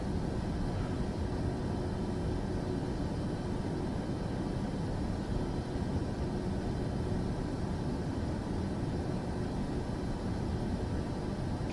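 An airplane driving on the ground in Microsoft Flight Simulator 2024 gives a steady, even engine drone with a broad noisy rumble that holds unchanged throughout.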